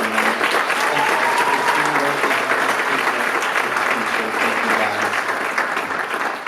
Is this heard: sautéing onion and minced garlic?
no